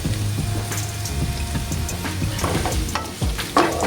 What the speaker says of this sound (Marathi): रताळी टाकणार आहे आणि छान जरासं परतून घेऊया।